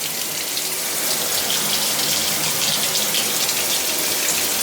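Water runs from a newly installed waterfall showerhead, making a steady, loud hiss of spray and splashing that continues evenly without a break.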